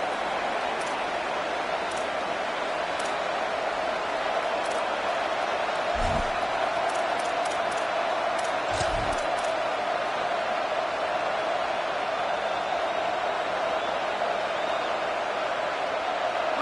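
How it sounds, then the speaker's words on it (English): Steady roar of a packed stadium crowd at an Alabama vs LSU football game, a constant broad wash of noise with a couple of brief thumps standing out. "This crowd ready to make its presence known"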